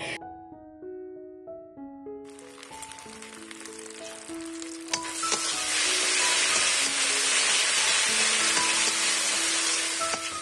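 Spice paste sizzles in hot oil for a katla fish head curry, a loud, close, continuous frying hiss that swells as it is stirred, with a melodic background tune underneath.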